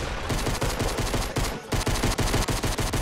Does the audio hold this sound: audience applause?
no